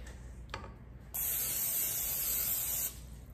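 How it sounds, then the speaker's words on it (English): Cooking spray hisses from a can onto a pan while chocolate chip cookies are being baked. There is a brief click first, then one steady, close spray lasting a couple of seconds. "we're gonna look for the spray so we can spray it"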